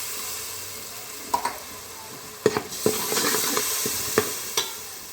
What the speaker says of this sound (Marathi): हे जे आपण चिंचेचा कोळ आपण भिजत टाकला होता ते पाणी आपण यात टाकत आहोत